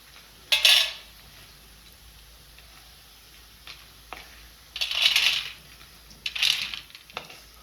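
Fried sandge lifted from a pan onto a plate, a few separate metallic scrapes and clinks of a utensil against the dishware, close and quiet between the bursts.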